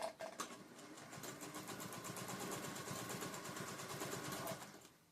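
A quilting machine on a Grace mini frame stitches across a quilt in a steady, rapid mechanical chatter that runs without pause for several seconds, moderately quiet and heard with no talk over it.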